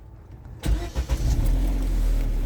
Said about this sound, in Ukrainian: от ми заводимо автомобіль